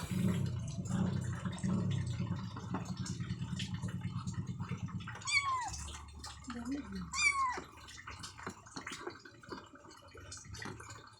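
A kitten meows a few times with rising, whiny calls, while a low steady hum and some background clatter fill the first half.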